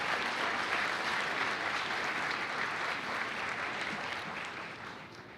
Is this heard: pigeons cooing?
no